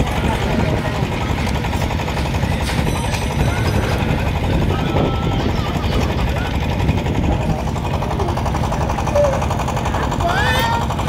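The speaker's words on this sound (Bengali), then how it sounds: "এই যে একটা ইঞ্জিন জেনারেটর চলতেছে" An engine-driven generator at a coal-fired clay brick kiln runs with a steady, rapid, hammering chug throughout, and someone talks over it.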